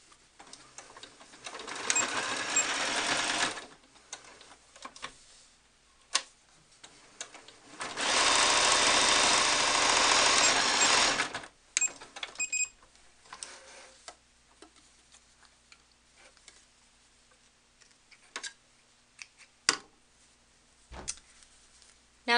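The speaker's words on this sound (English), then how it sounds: "sew around the outside of the bottom and then the outside of the head" Sewing machine stitching the outside seam of a handmade cloth mermaid doll, two sustained runs of fast, even needle whirring separated and followed by small clicks and handling taps, no talk.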